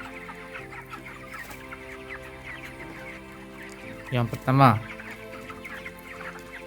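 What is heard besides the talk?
broiler chickens clucking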